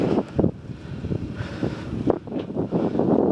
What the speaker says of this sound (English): It's blowing up a gust.